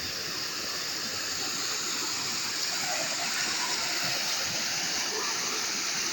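Steady rushing river water pours from a freshly opened dam, a loud, continuous broadband roar with splashing and gurgling, heard close and without pause.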